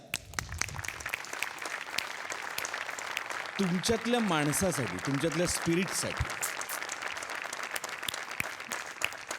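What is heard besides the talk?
audience applause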